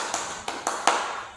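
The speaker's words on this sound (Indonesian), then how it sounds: "Tepuk tangan untuk kalian" Students in a classroom give a short burst of hand claps, four distinct sharp claps spaced unevenly over about a second, close and fairly loud, with no talking.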